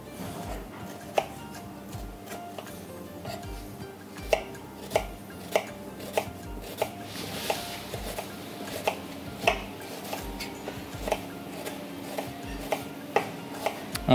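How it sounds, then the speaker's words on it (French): A knife slices an onion on a cutting board in a steady series of sharp taps, fairly close, with faint kitchen clatter in the background. "on va venir émincer le reste de l'oignon"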